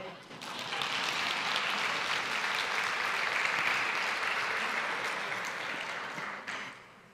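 A conference audience of school directors applauds after a video is shown, sustained, even clapping swelling in quickly and tapering off near the end.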